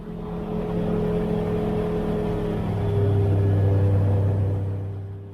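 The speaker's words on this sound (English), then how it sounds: "This is incredibly quick little aircraft." A microlight plane engine drones steadily during a fast climb. The low buzzing tone holds close and loud, swelling slightly midway and easing toward the end.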